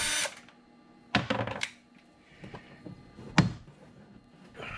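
A 10mm socket tool works at bolts holding the frunk panel of a Tesla Model Y, giving a few short bursts of ratcheting and clattering with clunks between quiet pauses.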